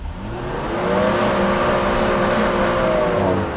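A Mercedes W126 300SEL sedan engine idling in Park is revved hard toward its roughly 4500 rpm fuel cut, rising and then holding a loud, steady, close harmonic drone throughout without any speech.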